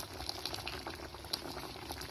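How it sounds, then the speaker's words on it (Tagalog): Fish in coconut milk simmers at a steady boil in a covered pot, giving a close, continuous bubbling and popping with no voices over it. "At least ito nakasalang na kumukulo. Kumukulo-kulo na siya."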